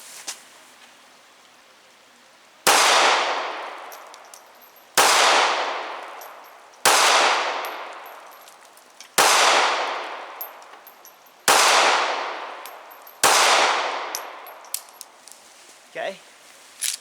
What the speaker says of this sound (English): I'll shoot the Ruger for 6 more rounds on the right again